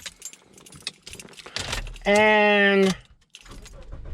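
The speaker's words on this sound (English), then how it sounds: "when you put the key in," A key goes into a Toyota ignition with a clear jangle of keys, then a steady humming tone that cuts off, while a person talks.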